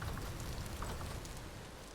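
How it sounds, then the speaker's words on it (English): Steady rain falling in the survival game Vintage Story, a soft continuous patter with a low rumbling wash, even and constant throughout with no voices. "that rain noise, though, it just gets to me sometimes"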